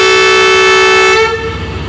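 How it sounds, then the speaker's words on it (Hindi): Loud, sustained blast from the horn of a Chinese-built ZC30 locomotive, number 6304, at busy Karachi Cantt station in the evening, a steady tone that holds for over a second and then drops away into the station's background rumble. "एक ज़बरदस्त सा हॉर्न जी, ZC30 6304 का।"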